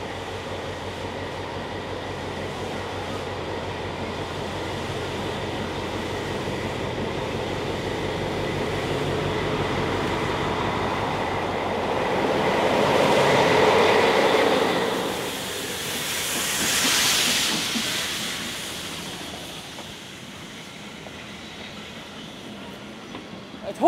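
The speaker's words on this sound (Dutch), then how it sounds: "We hebben dit weekend 5 stoomloks onder stoom en 2 dieselloks." Steam and diesel locomotives running at a heritage railway weekend, with five steam engines under steam and two diesels: a steady rumbling rail and engine bed that swells midway with a rising hiss of steam, then settles, while a voice talks throughout.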